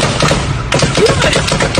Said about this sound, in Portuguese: Foi muito tiro